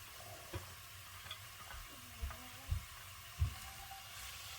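Lasagna filling being stirred in a pan on a hot stove, a faint steady sizzle beneath a few soft spoon knocks and scrapes against the pan.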